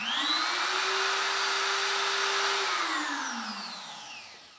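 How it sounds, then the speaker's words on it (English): A brass-bodied router spindle motor on a 3018 CNC machine spins up to a loud, steady high-pitched whine, holds, then winds down as the motor slows near the end. "It's kind of loud because it's a router and it's also a brass motor"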